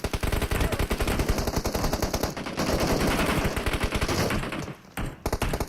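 Continuous, loud automatic gunfire in PUBG Mobile, several weapons firing rapid overlapping bursts with only brief pauses near the end.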